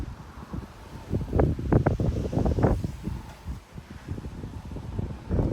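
Strong wind gusts blowing through trees in Frisco, Texas, during 30 mph gusts, with rustling leaves and rumbling wind buffeting the microphone in uneven surges that rise and fall without any talking.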